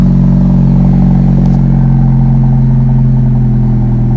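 A Honda Civic fitted with a custom low-budget valvetronic exhaust runs with a loud, deep, steady engine drone close to the microphone, holding a continuous rumble with a brief clatter in the middle.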